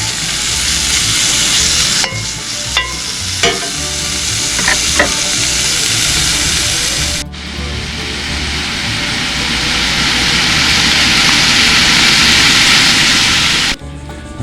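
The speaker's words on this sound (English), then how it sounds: "that bacon's just starting to render" Bacon frying in a cast iron pan, a loud, dense continuous sizzle with a few sharp utensil clicks and scrapes early on, one abrupt drop in level partway through, no talking.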